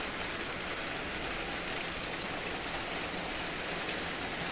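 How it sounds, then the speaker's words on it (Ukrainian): Light rain falls in a steady, soft hiss, even and unbroken, with no voices. "Тихий, слава Богу, тихий дощ."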